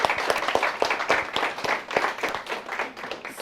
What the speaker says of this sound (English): will you all join me in clapping for everybody who got certified?